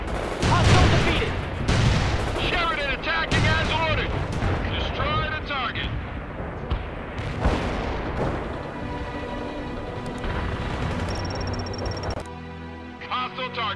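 Gunfire and artillery in the war game World in Conflict, rumbling blasts and rattling shots under frequent radio-style voices of soldiers talking, loud at the start and continuing throughout.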